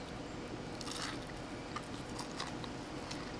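Someone bites and chews crunchy battered onion rings, close soft crunching and munching over a muffled background, no talk.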